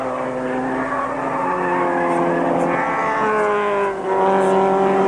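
A Mitsubishi Starion and Ford Sierra touring cars race through a 1987 British Touring Car Championship 500 km event, engines wailing loudly with rising and falling pitch as they pass, continuous and near.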